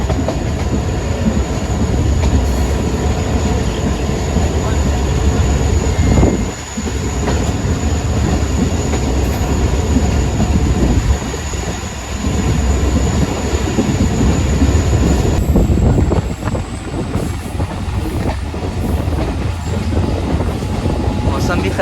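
Passenger train 151UP Shah Latif running on rails near Jumma Goth station, with a loud continuous rumble, rhythmic clatter and intermittent wheel squeal heard from on board, with brief dips in the noise.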